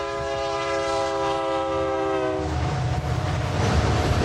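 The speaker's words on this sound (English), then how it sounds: "Yeah, that sounds like a freight train." A freight train's horn blares in a long, steady tone, then gives way to the deep, rolling rumble of the passing cars, loud and close throughout.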